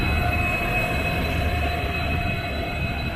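Train at a station platform, a steady loud rumble of rolling rail cars with a faint high wheel squeal, continuous and close throughout.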